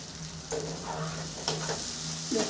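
Spices and fried potatoes sizzle and crackle in oil for a tengra fish curry, close and continuous, with a few stirring scrapes and clanks of a utensil against the pan and no voices.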